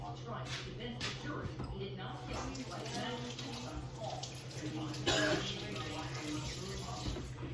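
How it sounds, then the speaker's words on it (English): Store-bought potatoes, waxed to stop budding, rinsed under a running tap; a steady splashing water stream fills the whole stretch, close and constant, while people talk and cough in the background. "So let me rinse them one more time."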